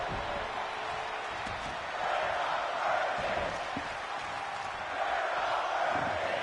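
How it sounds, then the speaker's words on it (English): A wrestling crowd fills an arena with a steady, dense roar of chanting voices that swells slightly in waves, loud and continuous with no clear pauses. "Crowd chanting, "We're not worthy.""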